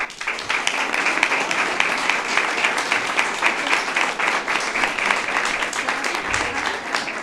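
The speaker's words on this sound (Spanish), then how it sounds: "el súper don Javier Moreno, al que le dedicamos el último aplauso" Loud sustained applause from an audience at a talk about the founding of a women's football club, continuous dense clapping throughout with no voices above it.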